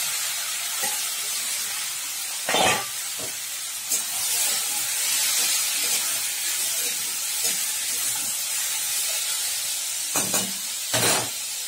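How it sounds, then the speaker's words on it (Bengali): Potatoes fry in a pan after a dried red chili tempering, giving a continuous close sizzle and hiss, with a few louder clatters of the spatula or pan along the way. "একটা শুকনো লঙ্কা ফোড়ন দিয়ে দিয়েছি, দিয়ে আর আলু ভাজাটা চাপিয়ে দিলাম"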